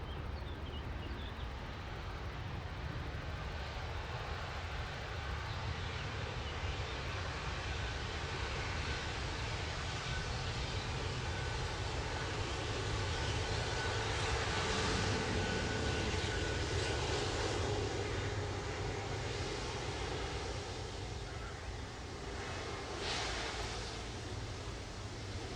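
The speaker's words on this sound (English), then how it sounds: "Oh, this is a Jet 2 330 actually." A Jet2 Airbus A330 airliner passing at Manchester Airport: a continuous loud engine roar that builds and holds throughout, broad and rushing, heard outdoors from a distance without talk.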